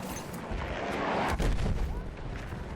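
Mortar fire in the video game Battlefield 1, a deep booming impact with rumbling low blast and debris wash, loud and close, amid ongoing game noise.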